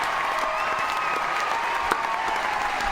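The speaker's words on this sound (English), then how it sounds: "canned applause for you, Mark" Canned applause plays for a talk show guest, an even, continuous wash of clapping that holds at steady volume without swells, with a faint high whine running above it.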